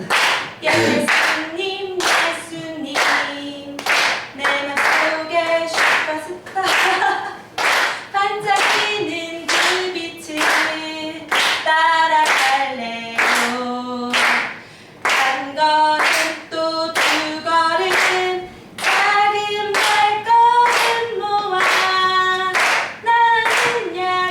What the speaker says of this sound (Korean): 전부 다 박수